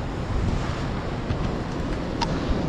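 Big sea waves crash and roll on the shore under strong wind, a loud continuous roar with gusty microphone buffeting and no voices.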